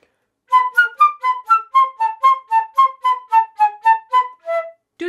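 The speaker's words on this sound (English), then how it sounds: "The whoos are just little puffs of air" A flute plays a series of about fourteen short, detached breathy notes. Each note is a quick puff of air pushed from the abdomen with no tongued attack. The notes come in an even, steady rhythm and sound alone and clear.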